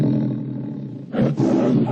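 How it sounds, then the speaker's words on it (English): The post-1982 MGM lion roar plays as a studio logo sound: a loud, close lion growl that breaks off briefly, then surges back into a second, fuller roar. "You also can hear the post-1982 lion roar in these variants"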